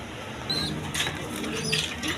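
Pigeons kept in a cage at a breeding farm, with faint rustling, soft wing flutters and light cooing under steady background noise.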